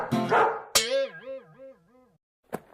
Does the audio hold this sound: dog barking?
yes